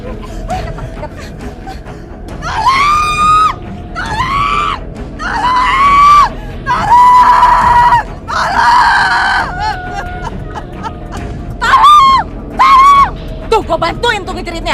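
A woman screams loudly and repeatedly in an Indonesian TV drama: about eight long, shrill bursts separated by short gaps, over a constant background hum.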